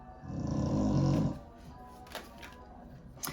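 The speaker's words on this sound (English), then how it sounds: "I'm sorry about the snoring." A person or pet sleeping nearby snores heavily in one long, loud, rumbling breath that fades out, followed by quiet room noise with a couple of faint clicks.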